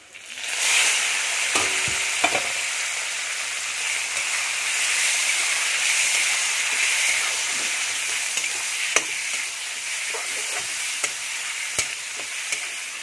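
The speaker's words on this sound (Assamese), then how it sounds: "আৰু ইয়াতে মই এতিয়া মাংসখিনি মই ঢালি দিম।" Chicken meat poured into hot oil for an Assamese chicken and bamboo shoot curry, with turmeric already in the pan, sizzling and frying steadily throughout, with a few sharp clinks of stirring against the pan and no talk.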